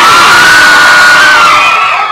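Fans at a celebrity meet and greet scream and cheer loudly with high shrieking voices, a sustained roar of excited yelling that tails off slightly at the end.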